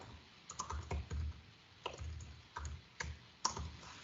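Typing on a computer keyboard, scattered bursts of close, fairly soft key clicks with short pauses between them.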